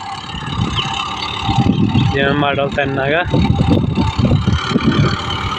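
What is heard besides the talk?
tractor engine running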